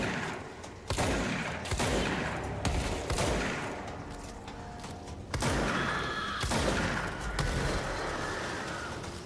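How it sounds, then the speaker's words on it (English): Shotgun fire in the video game Control: dense, loud booming blasts and crashing impacts layered over constant game noise, several heavy shots in quick succession with a continuous roaring background. "The shotgun worked pretty good on him."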